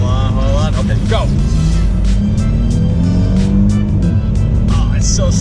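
A Porsche 911 sports car accelerates hard, its engine note climbing in loud rising sweeps with gear changes, up close over steady road roar while people talk excitedly.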